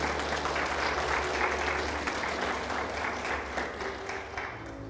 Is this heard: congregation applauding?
yes